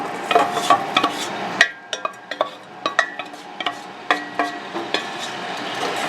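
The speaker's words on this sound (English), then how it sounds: "And stir it around a little bit." Citrus rinds get stirred in a pot on a stovetop burner, with a spoon knocking and scraping against the pot in a steady series of light clinks and taps. The strokes come close and clear, with no voices.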